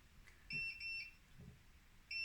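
A soy milk maker gives repeated high electronic beeps in short bursts after stop is pressed, faint and clear against a quiet room.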